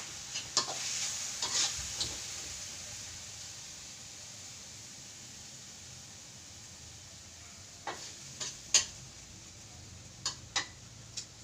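Thai basil stir-fry (pad kaphrao) sizzles quietly in a pan while a spatula stirs it, with sharp ticking scrapes in a cluster at the start, a long soft frying hiss, then more scattered knocks near the end.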